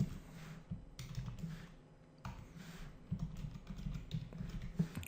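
Keys clatter on a computer keyboard as code is typed, quick irregular bursts of close clicks with a short pause near the middle, then steady typing again.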